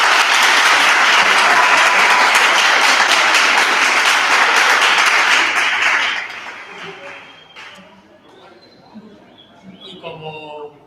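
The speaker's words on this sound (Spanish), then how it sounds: "recibimos ya con un fuerte aplauso al doctor Fernando Carmona" An audience at a colloquium on COVID experiences greets a doctor with loud, dense applause for about six seconds, then the clapping dies away into quieter room noise with a few stray sounds and faint voices.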